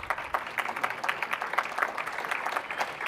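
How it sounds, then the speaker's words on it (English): Audience at a Microsoft PDC 2009 conference talk applauding steadily, a dense patter of many hands clapping at moderate loudness for about three seconds, with no speech over it. "Isn't it great when you have your own team members in the audience to spark off applause?"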